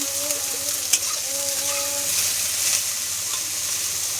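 Soybeans for a curry fry in a pan with a steady, close sizzle, with a few soft stirring knocks throughout.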